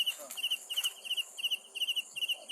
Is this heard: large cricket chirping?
yes